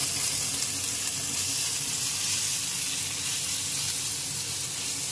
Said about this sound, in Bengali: এটা আমার একটু ভাজা হবে। এতে সামান্য পরিমাণে লবণ দিচ্ছি আর একটু হলুদ দিচ্ছি